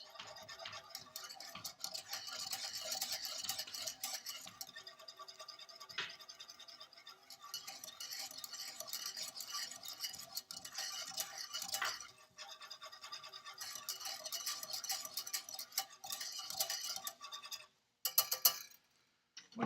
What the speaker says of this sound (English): So I'm going to use the whisk for that, and I'm just going to constantly stir this and bring it up to a boil.